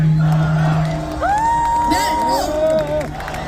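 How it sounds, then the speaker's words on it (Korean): A crowd at a political rally cheers and whoops, with raised voices and shouts rising over a dense, steady hubbub from close by. "이분에게 한번 박수 한번 쳐주시기 바랍니다"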